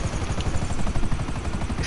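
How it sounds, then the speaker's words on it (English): A helicopter chasing the player in GTA 5, a loud, steady rotor thudding with dense rhythmic chopping that continues throughout, close and without talk. "If a helicopter is chasing you down like this"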